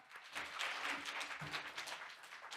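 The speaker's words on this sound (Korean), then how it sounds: "큰 박수 부탁드립니다." Forum audience applauding as the next speaker, an education ministry policy adviser, is introduced; dense, steady clapping fills the whole stretch at moderate loudness, with no talk over it.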